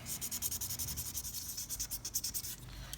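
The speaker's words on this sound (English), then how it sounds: "So I've just been hand sanding this" A laser-engraved pen blank is hand sanded in close, quiet strokes, a steady rhythmic rasping rub repeating back and forth with no voices.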